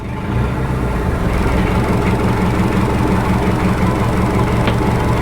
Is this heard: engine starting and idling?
yes